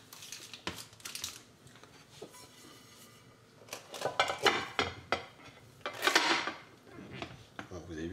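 Clattering of a dish, mould and utensils while a chilled courgette and smoked salmon terrine is turned out onto a plate in a home kitchen, a series of close knocks, taps and scrapes, with someone talking at times.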